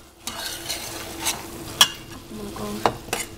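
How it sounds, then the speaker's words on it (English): Seasoned meat stirred in a pan, a spoon scraping and knocking against the metal in a few sharp strokes over a soft, steady sizzle. "And then we're gonna stir it all up together"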